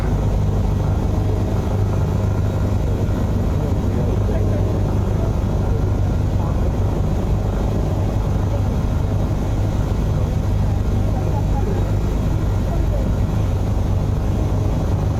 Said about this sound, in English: having that like blade slap feels very, very loud